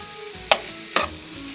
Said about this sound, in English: Cook the bacon. You love that sizzle.